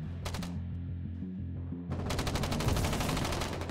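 Artillery shells fire in the Foxhole war video game during a combined arms battle, a dense run of sharp booming reports with several near-overlapping blasts, growing louder and denser after a brief lull, with no talk.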